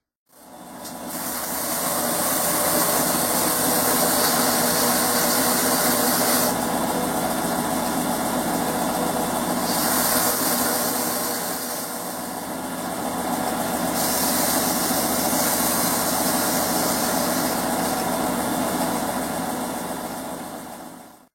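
A new outboard engine on a boat runs and idles steadily and loudly for about twenty seconds, dipping briefly in level midway, with no voices.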